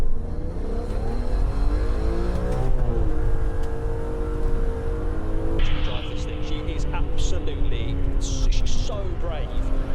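A BMW M3 engine drones and revs steadily through the whole stretch while the car is driven, its tone climbing at times, with a passenger's voice and other sounds joining in partway.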